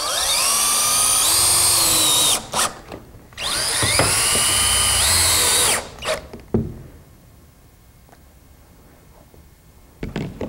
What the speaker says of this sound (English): I'm using a SSR1 pan screw, and I'll be installing these screws about every 12 inches apart